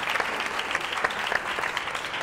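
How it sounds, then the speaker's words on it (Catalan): Studio audience applause on a Catalan television word game show, steady crowd clapping with individual claps standing out, continuous throughout without talk. "Un aplaudiment."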